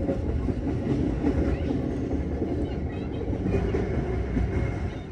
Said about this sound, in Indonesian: Saat ini kereta api Serayu tengah melintas di terowongan Sasak Saat